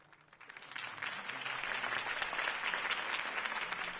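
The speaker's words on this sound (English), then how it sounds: "If only Mr. Wayne, my campaign's largest backer, could have heard that applause" Crowd applause after a campaign speech in Batman The Telltale Series swells from quiet to a full, dense roar of clapping within a second and holds steady, slightly distant and crowd-like, with no talk over it.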